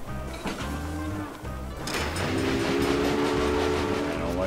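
A train runs along a rail line in the Railway Empire video game, its steady rolling rumble joined by a sustained whistle or horn tone partway through, loud and continuous with no talking.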